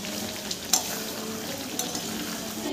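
Meat being stir-fried in a pan, a dense continuous sizzle with a couple of brief scraping stirs over a few seconds.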